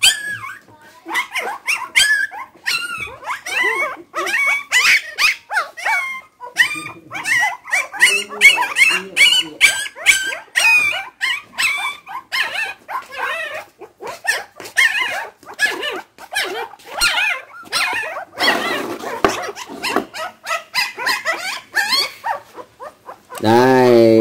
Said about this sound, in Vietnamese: đàn cún con vậy mà chó mẹ không chịu lại nó nằm chung mà đi lang thang ngoài kia kìa